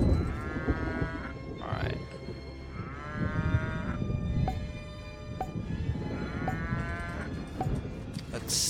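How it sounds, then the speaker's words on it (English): In the video game Rock of Ages 2, sticky cows moo in long drawn-out calls, three lowing cries spaced apart over noisy game sounds, with some talk underneath. "Those are sticky cows."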